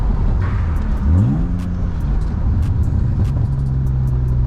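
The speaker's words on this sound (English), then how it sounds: "See what the rev match downshift sounds like?" A BMW E36 328i with a single-exit exhaust blips sharply upward in a quick rev-match downshift, then settles to a steady idle rumble, close and fairly loud.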